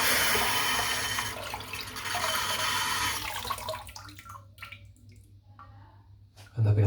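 Tap water runs and rinses a shaving brush in a sink, a steady splashing stream that thins into drips and small squishes near the end.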